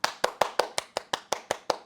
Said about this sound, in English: Can somebody give me a fucking round of applause here?